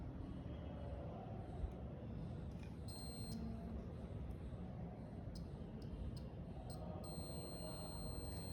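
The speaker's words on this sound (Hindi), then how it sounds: "ये बजर में बीप की आवाज़ जैसे आप सुन रहे हैं, बीप की आवाज़ आ रही है" A multimeter's buzzer sounds in continuity mode while testing a transformer winding, giving short high beeps around the three-second mark and a steadier tone near seven seconds over a constant broadband hiss.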